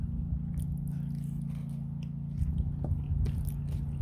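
Someone chewing crunchy MRE crackers close to the mic, with faint crisp bites and crunches over a steady low background hum, no talking.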